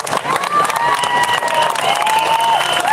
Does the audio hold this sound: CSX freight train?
no